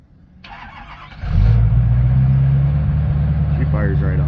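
A 6.7 diesel pickup truck starts by remote: a short cranking whir, then the engine catches and settles into a loud, steady, close idle with a deep hum, while someone talks briefly over it.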